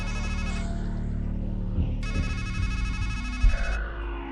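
A phone ringtone sounds loudly in the video game Strangeland: a repeating electronic ring in bursts over a low rumbling game backdrop.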